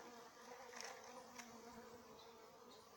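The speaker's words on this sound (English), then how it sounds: "I hope that bee doesn't get drowned there." Honeybees buzz around a liquid feed container at a hive, giving a faint, continuous close drone with a few brief louder passes.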